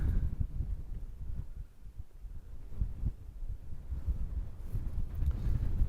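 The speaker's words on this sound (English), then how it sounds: "this wind has picked up" Strong wind at a cold wild camp on Kinder Scout in the Peak District, with steady low buffeting roar and gusts rumbling across the microphone throughout, without any speech.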